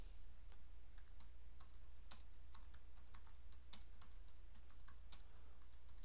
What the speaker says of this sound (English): We'll hit the tab key again